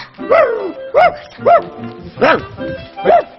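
A dog barking in a children's TV kindergarten show, five or six short, bright, cartoonish yips evenly spaced and close, with no other sound between them.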